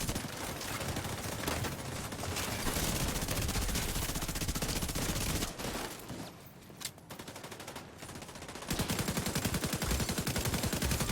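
Rapid gunfire and heavy shotgun blasts from the shooter game The Division 2, dense and loud throughout with a short lull midway before the firing resumes at full intensity.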